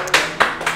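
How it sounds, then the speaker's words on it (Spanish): A few close, sharp hand claps in a studio setting after chocolate cake is made, three distinct loud claps spaced unevenly within under a second. "Un fuerte aplauso para Ignacio."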